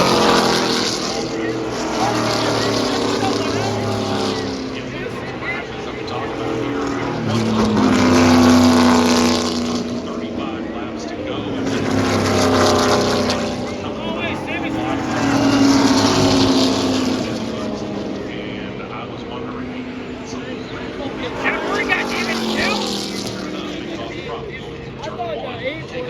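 Stock cars racing four wide in a Talladega Xfinity race, a continuous loud engine roar that swells and fades as packs sweep past the grandstand, with crowd noise underneath.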